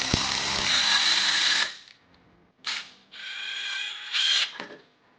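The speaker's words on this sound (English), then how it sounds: "Use an impact gun." An impact gun driving a bolt to set a threaded rivnut: two loud bursts of whirring, hammering impact rattle separated by a short pause, each ending abruptly, close up and with no talk.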